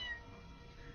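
A cat meows once in a video game, a short faint meow.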